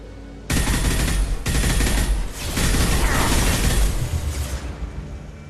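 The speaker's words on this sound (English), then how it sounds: "This Revenant machine gun" In Mass Effect 2, the Revenant machine gun fires sustained, close, loud automatic bursts in several long strings with brief gaps between them, mixed with mechanical clatter and a few impacts.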